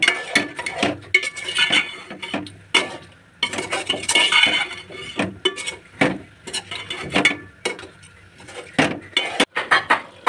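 Masala and spices roasting in a pan for chicken salan, with repeated clinks and scrapes of a spoon against the pan in uneven bursts, close and fairly loud, with no talk.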